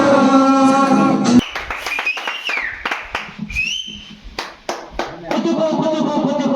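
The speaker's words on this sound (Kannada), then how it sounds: "ಪ್ರೇಕ್ಷಕರನ್ನು ಮನರಂಜಿಸಿದ ಗುಂಡ ಹಾಗೂ ಪವನ್ ಅವರಿಗೆ ಹೃದಯಪೂರ್ವಕ ಚಪ್ಪಾಳೆ" A studio audience at a Kannada TV comedy show applauds, with a burst of loud clapping and sharp whistles after a musical passage, and the applause swells again toward the end.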